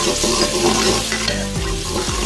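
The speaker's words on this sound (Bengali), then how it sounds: "পেঁয়াজ নাড়াচাড়া করছি।" Onions being stirred in a frying pan, with continuous close sizzling and repeated scraping strokes of the spoon at a steady pace.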